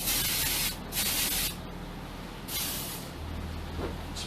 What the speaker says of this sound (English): spray on the side, just so you can separate those out at the end.